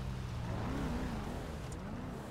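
Car engine droning steadily in a GTA roleplay game, with a wavering pitch that rises and dips as the vehicle drives, a smooth continuous hum with no voices.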